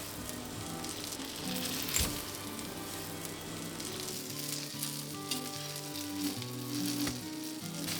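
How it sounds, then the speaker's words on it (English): Battered apple slices for Polish apple pancakes sizzle steadily in a frying pan over medium heat, a continuous close crackle and hiss with small pops, no voices. "Add in your battered apples. And cook them till they're brown."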